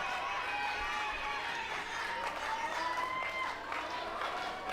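Large in-house wrestling crowd at a Project X Northern Heritage Championship match, a steady roar of cheering and applause under a commentator's voice.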